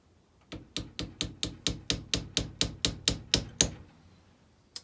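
A steel punch is hammered against a starter chain link on a 1959 Gravely tractor: about a dozen sharp, evenly spaced metallic strikes in a steady rhythm, close and clear with no talking, then a brief quiet tail.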